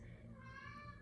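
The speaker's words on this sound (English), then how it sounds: "That's my cat" A house cat meows indoors, a drawn-out wavering call lasting about a second over a low background hum, heard close and fairly clear.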